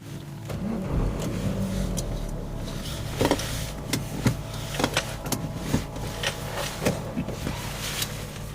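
A car travels along a road, its steady low engine and tyre rumble continuous throughout, with intermittent sharp clicks and thumps from inside the cabin and no talking.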